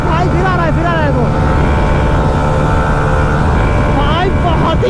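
A Honda Hornet 125 and a 2025 Hero Xtreme 125 motorcycle engine drone loud and steady through a drag race, with pitch rising and falling as the bikes shift and pass. Someone talks excitedly over the engines.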